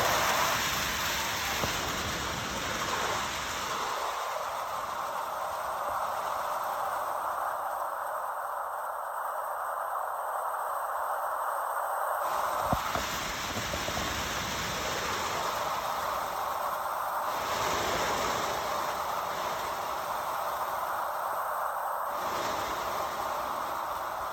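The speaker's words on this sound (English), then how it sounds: "It's raining outside." Steady rain falls outside a tent during a storm, a continuous broadband hiss that shifts in intensity now and then, with no voices.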